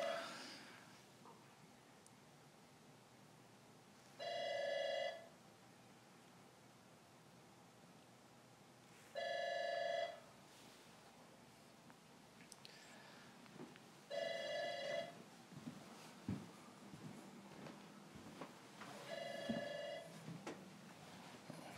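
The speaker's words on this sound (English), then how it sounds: "the phone's ringing" A telephone rings in four evenly spaced double bursts a few seconds apart, moderately loud, over faint room rustling and low background noise.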